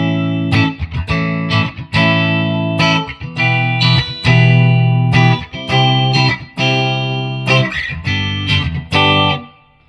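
Electric guitar played through a Nux Mighty 60 amplifier on its Deluxe Reverb amp model, a loud run of strummed chords and picked notes with sustained ringing tones and clean reverb tails, played alone without talk.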